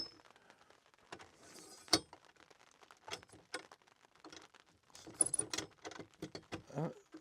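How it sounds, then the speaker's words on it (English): Light rain falls outdoors as sparse, scattered raindrops patter and tick irregularly on nearby surfaces, faint and close, with occasional sharper clinks and no voices. "The perfect amount of raindrops."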